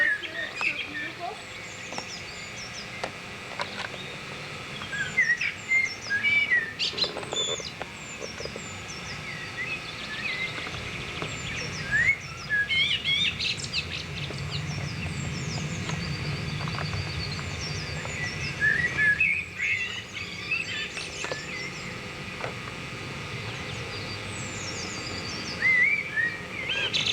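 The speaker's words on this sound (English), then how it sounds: "the birds are singing" Birds singing outdoors in the English countryside, with scattered high chirps and calls recurring through a steady background of ambient noise and occasional talk.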